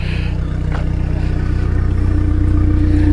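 Turbocharged cars at a drag racing event at Sentul give off a loud, steady engine drone with a deep throbbing rumble that swells slightly over a few seconds, with no voices.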